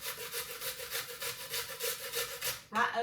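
An onion is grated over a bowl in fast, rhythmic, close rasping strokes, a dozen or so back-and-forth scrapes in a steady beat, ending with a brief knock.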